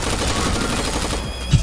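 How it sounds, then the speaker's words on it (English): Fireworks burst in the shooter video game Bullet Frenzy, a steady dense crackle of rapid pops with no break, running loud throughout. "Whoa, fireworks? That's pretty cool."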